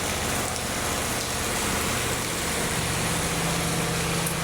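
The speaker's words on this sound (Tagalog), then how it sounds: "Wala nang tigil yung ulan guys, oh." Steady, dense rain noise fills the whole clip, a constant broadband wash with a low rumble underneath, like a heavy, unceasing downpour heard up close during flooding.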